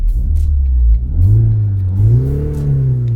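A Mini Countryman JCW All4 engine revs up close, loud, with the pitch climbing and falling through two or three throttle blips over a steady idle.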